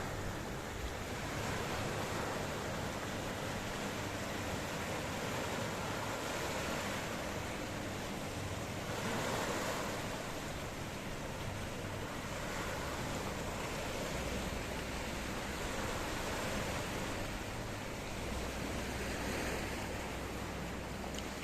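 Waves rolling in on the Mediterranean Sea front at Ayia Napa, Cyprus, a steady broadband wash of surf with some wind noise across the microphone, continuous and fairly even throughout with no talking.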